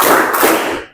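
Sharp clapping in a classroom, a dense burst of hand claps from a group of students, close and loud, ending abruptly.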